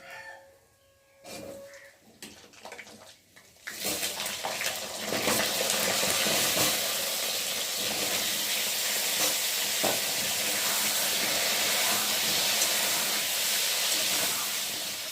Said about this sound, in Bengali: এখন আমি কেটে রাখা আলুগুলোকে দিয়ে তেলের মধ্যে ভালো করে ভেজে নেব